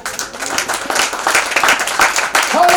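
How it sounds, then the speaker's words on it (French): A church congregation claps and applauds in praise during a French-language service, a dense, close burst of hand clapping that fills the whole moment, with voices mixed in. "Acclamons Jésus."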